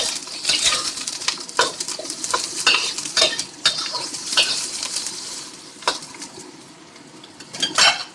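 Chopped onion sautés in a hot pan for a clam soup, a steady oily sizzle broken by repeated scraping and clinking of a utensil stirring against the metal, close and fairly loud.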